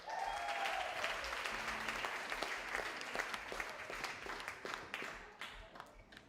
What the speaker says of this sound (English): Get your hands clapping.